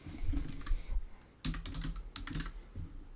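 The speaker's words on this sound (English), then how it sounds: "I'm going to type the word outlet." Typing on a computer keyboard, quick clusters of crisp key clicks in short bursts separated by a brief pause, close and clear with no talk.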